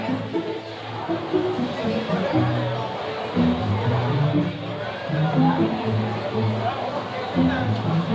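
Dense restaurant crowd chatter at a busy burger place, many overlapping voices forming a steady hubbub with no single speaker standing out, close and constant throughout.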